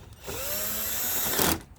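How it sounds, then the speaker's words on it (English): A cordless drill on low setting whirs steadily for over a second, pitch rising slightly as the screw drives in while replacing a 1998 Oldsmobile Aurora backup light, then stops abruptly. "a lot faster and easier to do with a drill"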